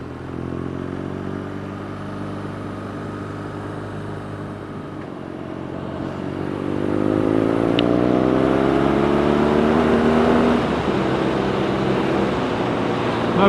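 A BMW R nineT Scrambler motorcycle of 110 horsepower, ridden on a wet road, accelerates with a steady engine drone whose pitch climbs through the gears and grows louder midway, with no talk over it.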